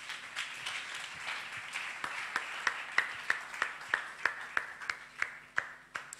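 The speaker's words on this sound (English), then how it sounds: "Clap your hands for the Lord." Church congregation clapping hands in worship, a steady rhythmic beat of sharp claps building over several seconds against a diffuse crowd murmur in a reverberant hall.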